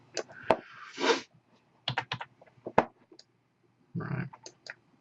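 A computer keyboard is typed on in short, uneven bursts of crisp, close clicks, with pauses between the bursts.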